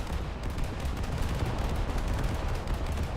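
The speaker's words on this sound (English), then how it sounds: "now my 5-inch guns will look for aircraft and will shoot them down" Batteries of 5-inch naval guns on a Cleveland-class cruiser in a naval combat game keep up dense anti-aircraft fire, a continuous rumbling, crackling barrage of overlapping shots with no pauses or voices.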